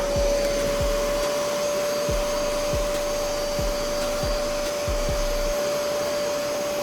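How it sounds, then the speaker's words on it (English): A carpet extractor sucks water out of wet car floor mats from a wrecked 300,000-mile Mazda, a loud steady whine with rhythmic sucking pulses roughly every two-thirds of a second as the wand is stroked across the mat, with no talking. "Now we're going to extract the floor mats,"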